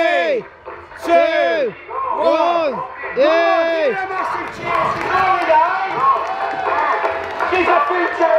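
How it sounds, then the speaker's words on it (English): Spectators at a soap box race in Accrington cheer and whoop loudly as a racer comes down the course, a sustained crowd roar with shouting voices and some clapping. "Let's give her a cheer and pretend we're cheering as if we had won the World Cup with the lionesses when Katie comes flying out"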